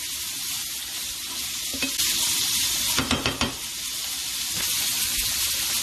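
Ingredients sautéing in oil for hibachi fried rice give a steady, close sizzle, with a few brief scrapes and clinks of a utensil stirring the pan in the middle.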